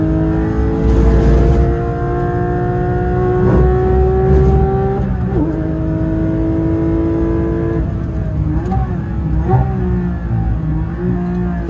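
A Porsche 911 GT3 with a manual gearbox races on the Mandalika circuit, its engine note a loud, sustained rising howl with gear-change dips, heard steadily across the whole stretch.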